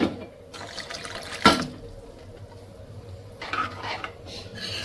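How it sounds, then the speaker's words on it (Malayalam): Hot water is poured into a thick lentil curry, with short splashing and pouring sounds alongside a sharp clink of a pan or utensil, close up and with no talking. "നമുക്ക് ഇതിനകത്തേക്ക് കുറച്ച് ചൂടുവെള്ളം ചേർത്ത് കൊടുക്കാം"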